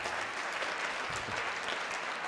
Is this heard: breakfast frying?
no